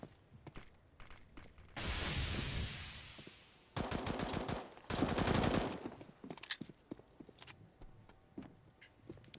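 Bursts of FAMAS rifle fire in CS:GO, sharp rapid volleys in several dense clusters separated by scattered single shots and footsteps, moderately loud with no talk.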